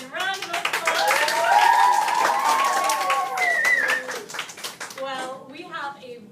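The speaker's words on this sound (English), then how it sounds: "Round of applause." An audience round of applause at the opening of a classroom-style talk show, with clapping hands and lively voices, including children, chattering and calling out over it throughout.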